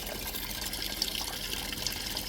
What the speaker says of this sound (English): Now water taken to the machine